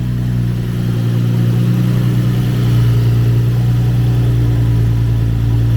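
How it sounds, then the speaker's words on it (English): A Nissan 350Z's engine runs steadily after repair following a crash, a loud, close, even idle hum with a slight lift in pitch partway through. "Alright guys, the car is on."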